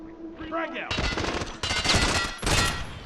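Gunfire rings out in the video game Hired Ops: bursts of automatic shots in three heavy volleys, loud and close, after a brief stretch of voice at the start.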